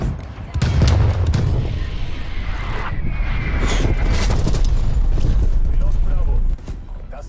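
Stun grenades and frag grenades bursting in Call of Duty Black Ops Cold War multiplayer, loud booms and gunfire crowding together in a dense, continuous barrage with voices mixed in.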